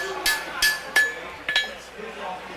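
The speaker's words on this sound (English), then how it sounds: "take that little rounded chisel and give our dragon some wrinkles around his nose" Small rounded steel chisel struck with a hammer into sheet metal to raise wrinkles on a dragon's nose, giving four or five sharp metallic clinks spaced about half a second apart, fairly close.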